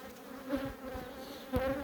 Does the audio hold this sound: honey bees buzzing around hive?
yes